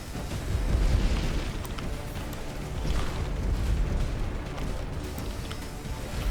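Repeated booming explosions from a bomber destroying turrets in the video game X-Morph Defense, a dense, rumbling series of blasts rolling one after another at steady loudness.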